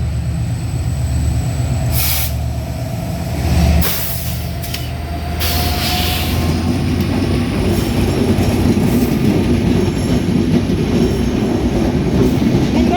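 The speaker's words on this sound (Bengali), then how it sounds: "যমুনা সেতু হয়ে চলাচলকারী খুলনা অভিমুখী আন্তনগর চিত্রা এক্সপ্রেস মৌচাক লুপে বসে থেকে মৌচাক ছেড়ে আসছে" The Khulna-bound intercity Chitra Express pulls out of Mouchak station near the Jamuna Bridge route with a loud, continuous rumble of railcars, rhythmic wheel clatter and some brief squealing bursts, heard close by.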